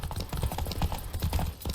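Horse hooves clatter in a rapid, steady clip-clop as a horse is ridden at speed in The Witcher 3, the beats close and continuous over a dense background wash.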